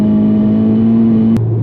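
Engine of a VW Polo GTI fitted with a Golf R turbo holding a steady, loud hum close by, then dropping abruptly in pitch after a sharp click near the end.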